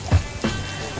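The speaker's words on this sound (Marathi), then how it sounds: "फक्त आपल्यावरती पाऊस पडतोय" Rain falls outdoors as a steady, soft patter, with two brief, louder knocks of drops near the start.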